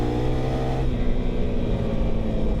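A KTM 390 Adventure R single-cylinder motorcycle engine revs hard at high RPM, a loud, steady close-up drone whose pitch shifts down slightly partway through, with no talk over it.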